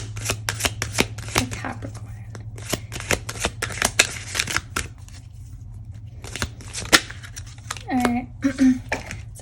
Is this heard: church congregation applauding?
no